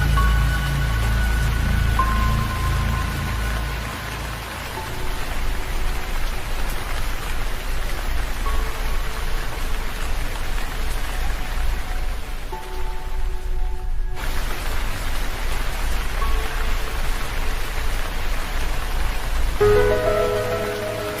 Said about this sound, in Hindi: लेकिन बारिश रुकने का नाम ही नहीं ले रही है